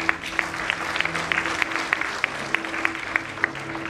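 A crowd claps steadily at a school prize distribution, the sharp overlapping claps forming a moderately loud, even patter that carries on throughout without letting up.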